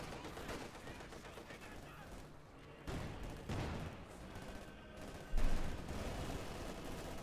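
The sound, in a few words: gunfire in video game Company of Heroes 2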